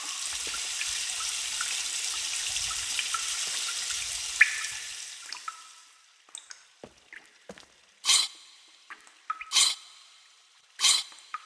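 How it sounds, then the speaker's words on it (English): Water drains out in the Myst video game at the Stoneship Age, a steady hiss of flowing water that fades away, followed by a few sparse drips and three short sharp splashes. "Well, we let the water out."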